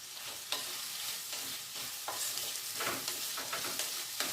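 Seven chopped small onions sautéing in coconut oil, a steady close sizzle broken by repeated scraping stirs of a spoon against the pan, with no talking.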